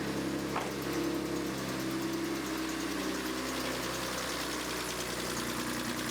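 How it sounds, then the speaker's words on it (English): A turbocharged car engine with a GTX3576 turbo idling steadily, with a constant low rumble and a faint mechanical knock throughout, no voices. "Sitting here idling real good"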